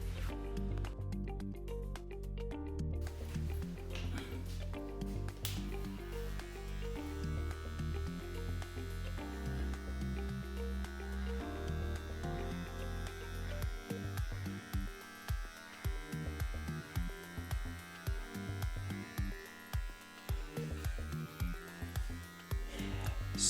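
A handheld electric hair clipper bought in South Africa runs with a steady close mechanical hum and buzz throughout, its tone shifting and stuttering slightly as the blade moves during a brush fade haircut.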